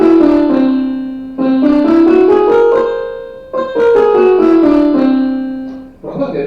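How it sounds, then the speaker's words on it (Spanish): A whole-tone scale sounds on a sustained, organ-like instrument, notes stepping up and back down in two smooth, loud, close passes, each tone held and gliding into the next, with a new note beginning at the end. "Ahora, una escala construida solamente con tonos suena así."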